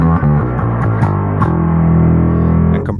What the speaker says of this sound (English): So just the P pickup through both would sound like this.